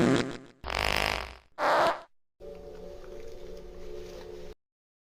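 A loud run of fart sounds plays up close, with several separate, wet, squishy bursts and then a longer, buzzing, drawn-out one lasting about two seconds.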